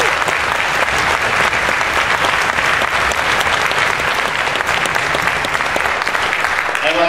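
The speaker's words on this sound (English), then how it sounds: "can we please give these amazing students and our middle school students a round of applause" An audience at a school music event gives a sustained round of applause for middle school students, a dense, loud wash of many clapping hands that stays steady throughout.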